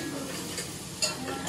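Cloves and green cardamom sauté in a pan for chicken biryani, giving a soft steady sizzle with a brief stirring scrape near the end.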